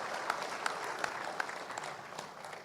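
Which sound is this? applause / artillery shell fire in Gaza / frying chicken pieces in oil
applause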